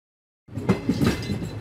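Passenger train rolling on rails through paddy fields in Madhya Pradesh, a steady rumbling clatter that starts abruptly after half a second of silence and continues close and fairly loud with no talk.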